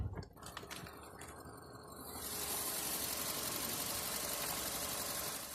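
A 2004 Volkswagen Golf's 1.6-liter naturally aspirated inline four-cylinder engine idles under an open hood, a steady, even, close-up hum with a brief quieter stretch before the sound fills in and holds constant.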